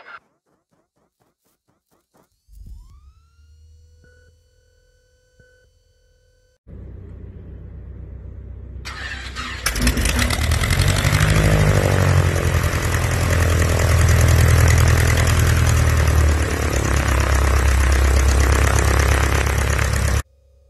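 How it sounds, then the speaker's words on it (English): A Cessna 150 light airplane's engine cranks with starter whine and clicks, then catches and roars into a loud, steady propeller-driven idle that continues close up until cutting off at the very end. "turn the key to start the engine"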